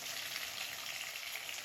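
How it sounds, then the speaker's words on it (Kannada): Curry leaves crackle and sizzle in hot oil with butter, a steady close hiss of frying with no voices. "ಕರಿಬೇವು ಸೊಪ್ಪೆಲ್ಲ ಸ್ವಲ್ಪ ಚಟಪಟ ಅಂದಾಗ ಈರುಳ್ಳಿ ಹಾಕೊಳ್ಳೋಣ"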